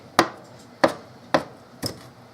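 Four sharp knife chops on a cutting board while cutting cilantro, evenly spaced about half a second apart, close and clear with a quiet room behind.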